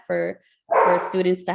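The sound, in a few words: dog barking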